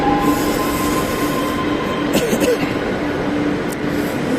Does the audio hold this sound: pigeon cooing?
no